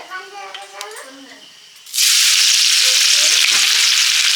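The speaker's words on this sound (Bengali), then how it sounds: "ফোড়ন দিয়ে শুকনো লঙ্কা তেজপাতা গোটা জিরে" Dried chillies, bay leaf and whole cumin drop into hot oil and burst into a loud, sustained hiss, after a quieter stretch with faint voices and kitchen noise.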